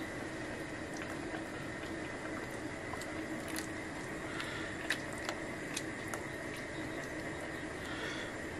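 Pasta bubbling in a pot of boiling water, a steady close rolling boil with soft popping and hissing that runs alone and unbroken throughout.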